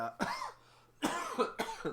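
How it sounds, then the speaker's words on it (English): Three harsh coughs from one person nearby, spaced through a short stretch with a quiet pause between the first and second. "I still have to cough every once in a while."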